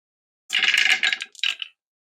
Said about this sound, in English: So I got 5 dice and I need 3s.